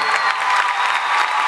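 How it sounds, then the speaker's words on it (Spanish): A concert audience at the Gran Rex theatre in Buenos Aires applauds steadily, a dense unbroken wash of clapping that stays loud and even throughout, with no voices rising above it. "Los aplausos por ahí, Bautista."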